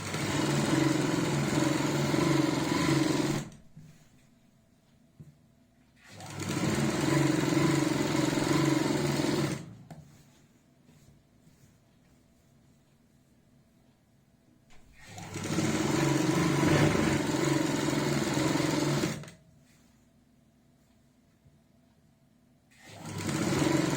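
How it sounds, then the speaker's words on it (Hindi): A sewing machine runs a straight seam on a kurti in two long steady stretches of several seconds, each followed by a quiet pause, with a close, even whirring and no voices. "अब हम यहाँ पे सीधी सिलाई लगाते हुए कंप्लीट करेंगे।"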